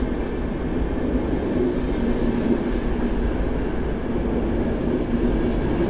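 Passenger train with a restaurant car and two open-plan coaches at the rear, at Warszawa Centralna station, giving a steady, loud rumble of rolling carriages with faint rail clatter and no voices.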